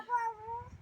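A cat gives one drawn-out, close meow that wavers slightly in pitch, clear and fairly quiet indoors, with light rustling underneath.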